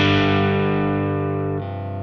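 An electric guitar played through a Victory V4 Duchess amp rings out in one sustained, distorted chord that slowly fades, then shifts to a second held chord near the end.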